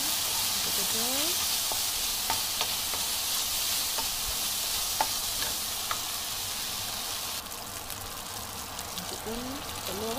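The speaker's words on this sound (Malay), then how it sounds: "masukkan saus tiram, gaul-gaulkan, kacang." Stir-frying in a wok after oyster sauce and peanuts go in: a continuous soft sizzle with scraping spatula strokes and brief pours, heard alone at moderate level.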